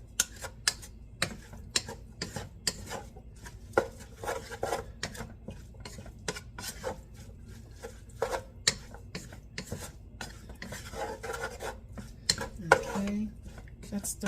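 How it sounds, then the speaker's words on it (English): A spoon scrapes and clanks in a pot of seasoned food during home meal prep, a steady series of close, irregular scraping clicks and taps over a low background. "Give it some good stirs again."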